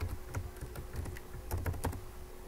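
Rapid keystrokes on a computer keyboard while an email and password are entered into a job application registration form, the clicks coming in quick irregular bursts, close and clear over a low steady hum.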